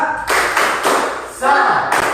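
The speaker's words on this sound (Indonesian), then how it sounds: "Oke, tepuk semangat" Classroom pupils doing a rhythmic spirit clap, with bursts of group clapping and stamping mixed with children's voices calling out together, loud and close.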